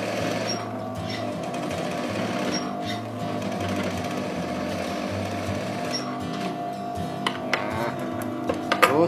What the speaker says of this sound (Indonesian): setelah ini baru kita tindes ya, kita tindes yang kita tindes yang bagian lengannya, jangan mangsetnya